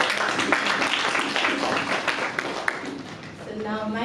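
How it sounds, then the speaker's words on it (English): An audience gives a round of applause at a talk, a dense, steady wash of many hands clapping that fills the whole stretch, with a voice starting up near the end. "can we all give a round of applause?"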